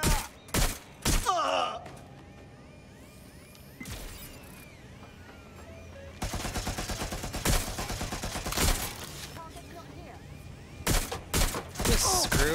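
Bursts of gunfire in Watch Dogs: Legion: sharp, loud volleys and rapid automatic fire come in clusters, with heavy impacts between them and a brief groan or shout.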